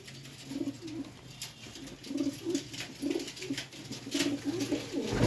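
Pigeons, including a large foot-long bird, coo in a chorus of low, throaty rolling calls that recur every second or so, close by, over a faint steady hum and no talk.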